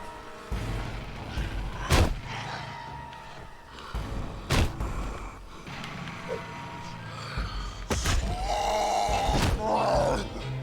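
A zombie in the video game Dead Island breathes heavily and lets out ragged groans, broken by a few sharp thuds, with the rasping growing louder and more strained toward the end.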